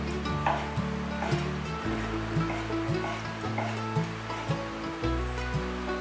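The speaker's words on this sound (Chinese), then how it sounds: "再切成丝" A knife slices dried tofu into strips on a cutting board, giving a series of quick, regular chopping taps close by, fairly soft over a faint background hum.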